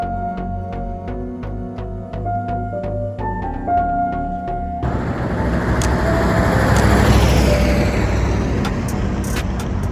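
Late-night road traffic in Saudi Arabia, with a broad roar of passing vehicles that swells and stays loud after a few seconds of brief, regular tonal ticks at the start.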